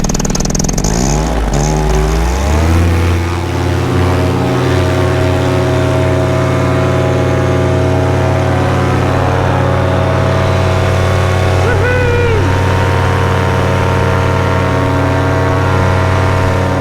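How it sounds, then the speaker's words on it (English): A cold paramotor engine cranks over and catches, revving up and then settling into a steady, loud, droning run close by, with a brief rise in pitch near the end. "The motor was hard to start, cold."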